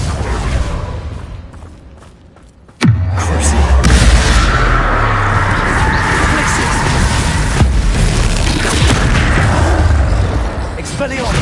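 Bombarda blasting spell from Hogwarts Legacy erupts in one sharp, loud blast after a brief lull, followed by a long rumbling roar of debris and game effects, with a smaller crack later on.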